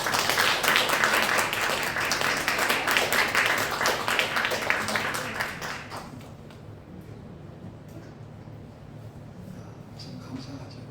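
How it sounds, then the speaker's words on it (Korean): Congregation applauding during a church morning worship service, a dense wash of clapping for about six seconds before fading into quiet room murmur. "우리 박수 한번 해주세요."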